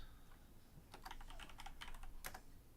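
Keys clack on a computer keyboard during a kit build, a quick irregular run of soft taps over low background hum, faint and close.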